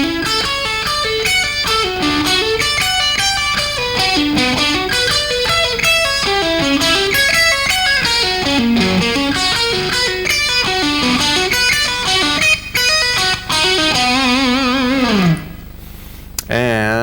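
Electric guitar plays a bouncing, repeating string-skipping pattern of single notes that jump across strings at a slow, steady pace, then ends with a bending note.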